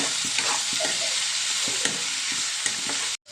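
Tomatoes and onions with a little turmeric and salt fry in a pan for an okra stew, a loud, continuous close sizzle with rhythmic scraping strokes of a stirring spoon, cutting off abruptly at the end.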